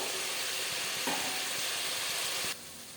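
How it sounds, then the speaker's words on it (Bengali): Bata fish slid into boiling kalia curry gravy sets off a steady, loud sizzle and bubbling hiss with a brief surge as the fish goes in, then the sound drops abruptly softer near the end. "ঝোলটা ফুটে উঠেছে দিয়ে দেবো মাছগুলো"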